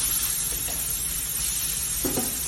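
Shaved steak frying over medium-high heat in a pan, a steady broadband sizzle with faint scraping and stirring touches near the end, no voices.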